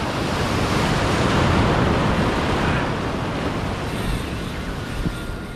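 Ocean waves break and wash steadily at a seaside fishing spot, a loud continuous roar of surf and churning water with wind buffeting the microphone, no voices.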